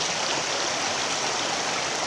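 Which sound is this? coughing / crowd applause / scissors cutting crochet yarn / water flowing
water flowing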